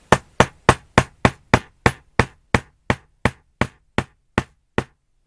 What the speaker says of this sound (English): I told you it's a big hammer.